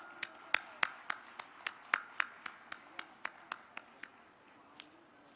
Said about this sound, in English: Please welcome her with a rousing applause